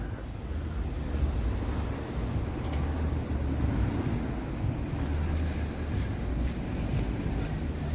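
Wind gusts buffet the microphone on a cold, near-empty Toronto street at night, a steady low rumble with soft swells and no voices.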